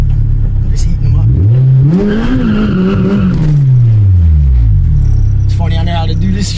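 A car with a K24 engine revs hard to heat its tires: the engine note climbs, holds high, then sinks back to a rumbling idle, loud and close, with voices over the engine.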